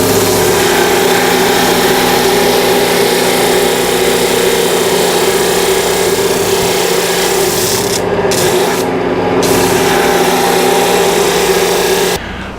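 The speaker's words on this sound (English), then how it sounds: "I'm going to do this on my flat sander." A flat sander smooths the bandsaw-cut angle on a wooden workpiece, giving a steady, loud, continuous whir and rubbing hiss close by that runs alone without a break.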